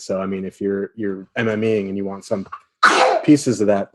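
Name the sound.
sneeze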